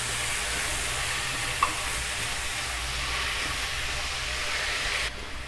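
Finely chopped cabbage and tomato fry for pav bhaji in a pan, a steady broadband sizzle and hiss that runs evenly throughout, with one brief clink of a spoon against the pan, and no talking.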